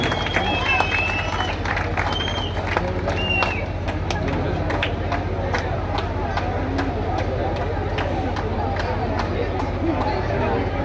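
Loud, sustained applause from a large crowd at a Ganesh festival poetry gathering in Kishangarh Renwal, dense clapping with a low steady hum underneath, continuing throughout.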